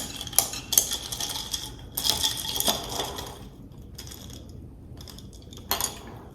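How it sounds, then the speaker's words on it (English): Dishes, pots and cutlery clatter during dishwashing in a home kitchen, with sharp metallic clinks and scraping in irregular bursts alongside quieter stretches. "So I'm going to wash the dishes"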